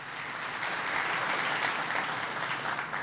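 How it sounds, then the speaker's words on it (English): Applause from the crowd at a town hall meeting, a sustained wash of many hands clapping that swells slightly midway and holds steady, heard alone without speech. "give him a big round of applause"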